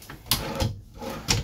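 Drawers in the bathroom of a 2004 Fleetwood Pace Arrow 37A motorhome are slid open and shut, three quick wooden knocks and slides spaced evenly, close and fairly quiet with no talk.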